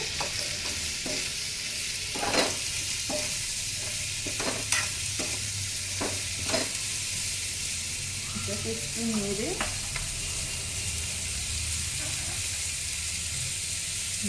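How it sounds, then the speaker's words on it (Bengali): Stirring and frying in a pan of mustard oil for a Bengali egg-potato dish, with a steady sizzle under soft scraping strokes and a few sharper clacks of the spoon against the pan. "আর পরিমাণ মতো সর্ষের তেল। দিয়ে এটাকে একটু নেড়ে"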